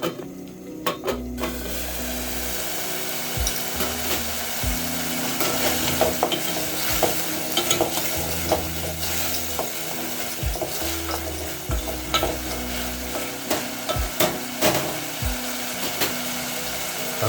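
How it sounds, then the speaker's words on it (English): A pot of potato and pea stew bubbles and sizzles steadily on the stove, with clinks and scrapes from stirring or handling the pot and a low intermittent hum underneath. "Then I'm going to let this boil for another 3 minutes."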